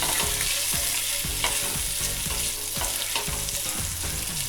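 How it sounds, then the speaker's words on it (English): Sausage browning in a pot for chicken and sausage gumbo, sizzling and frying steadily while being stirred, with repeated scraping and clattering strokes throughout. "Then immediately get the sausage in. Give that a stir, and this browns for about 2 minutes."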